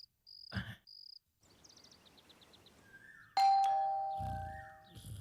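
A two-tone doorbell chime rings out twice over a soft mosquito-like buzzing background in a Hindi-dubbed movie, then a louder bright electronic ding-dong tone sounds with a low thud.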